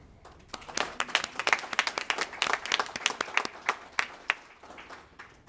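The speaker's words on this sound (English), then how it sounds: "let's give a round of applause to the Louisville Free Public Library" An audience at a Louisville Free Public Library book bike event applauds, with a burst of clapping that swells, holds for several seconds and then thins out to scattered claps.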